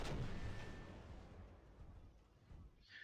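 Robot weapons firing in the mobile game War Robots on a test server, a booming shot at the start that rolls off into a low rumble, with a fainter burst near the end, no talk.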